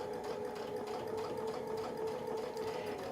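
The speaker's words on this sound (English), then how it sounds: "Sew our next brick." A sewing machine stitches a brick quilt block guided by a Westalee ruler template, running in a steady, continuous whir at close range with no pauses for the full stretch.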